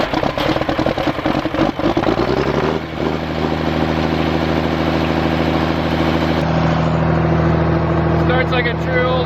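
An older John Deere tractor engine cranks roughly and catches, then settles into a loud, steady, close idle with a low rumble and a throbbing pulse.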